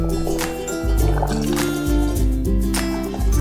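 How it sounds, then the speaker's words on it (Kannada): Water pours into thick tamarind paste in a pan on the stove, a loud, close gurgling splash with bubbly, dripping pulses over a few seconds. "ಇದಕ್ಕೊಂಚೂರು ನೀರು ಹಾಕ್ಕೊಳ್ತೀನಿ."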